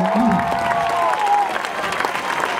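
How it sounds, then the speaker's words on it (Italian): Audience at a live Precario Tour 2015 comedy show in Cefalà Diana applauding in a dense, steady wash of clapping that holds evenly through the moment, with a few faint tonal squeaks riding above it. "guarda che stanno applaudendo tutti"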